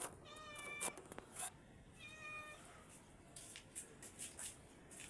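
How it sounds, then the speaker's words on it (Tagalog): Mingming, a pet cat who has just given birth to two kittens, meows several times in short, clear, close calls, with faint rustling and small high squeaks in between. "Ito yung alaga kong pusa."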